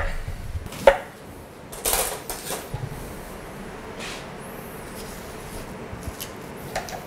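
A knife cutting apples in half on a board to remove the seeds and core, a few sharp chops and scraping cuts spaced out over quiet background, close and fairly soft, no talk.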